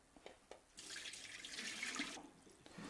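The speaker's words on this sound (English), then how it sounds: "now we're going to draining the rice" Water drains from washed sushi rice into a sink as a soft, steady splashing pour, preceded by a few faint clicks, heard alone without talking.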